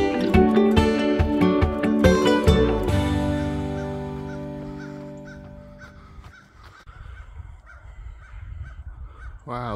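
Crow caws outdoors on a cold morning during a small-group training run, a few sharp calls standing out among harmonic tones early on, then the scene fading toward quieter ambient noise with faint rustling.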